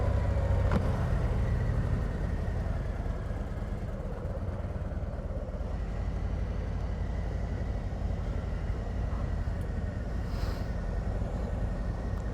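A 2024 Harley-Davidson Street Glide with a 117 motor is ridden on the road, its low engine rumble steady and close beneath rushing wind noise, with no voices throughout.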